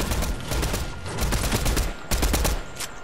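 Rapid gunfire from the video game Fortnite crackles in dense, loud bursts that repeat across the whole stretch with only brief gaps.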